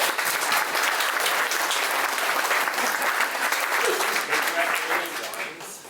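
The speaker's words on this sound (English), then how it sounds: "So, big round of applause for Paul." Strong, sustained applause from an audience at a real estate talk, with full, busy clapping throughout, some voices mixed underneath, and a fade near the end.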